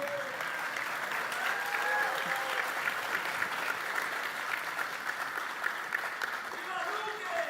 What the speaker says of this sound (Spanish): Yo les quiero pedir un aplauso para la Amboejara María Gloria del Arpa